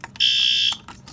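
A building fire alarm sounds during a test, a loud steady electronic tone holding for about half a second between short bursts, with no talking.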